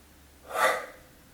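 A single deep breath during a hip, thigh and back stretching session, a brief airy inhale-exhale swelling and fading, close and alone.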